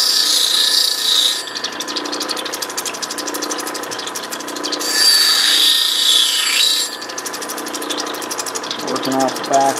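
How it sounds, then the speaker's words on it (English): Lightning Ridge crystal opal is ground on an 80 grit wheel, a loud close rasping grind that comes in bursts over a steady machine hum, with a short quieter gap between passes. "I don't really like cutting opal on an 80 grit."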